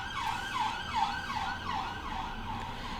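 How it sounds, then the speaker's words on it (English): Ambulance siren wailing outside in a repeating rising-falling pattern, distant and faint through a window, alone with no talk. "oh dear, there goes an ambulance."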